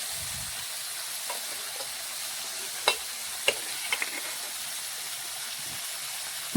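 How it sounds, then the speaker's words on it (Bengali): Food sizzles on one side in a pan for a Bengali prawn dish with green jackfruit, a steady close frying hiss broken by a few sharp pops and crackles midway, with no voices. "এখন কিছুক্ষণ সময় নিয়ে এক পাশ ভেজে নেব।"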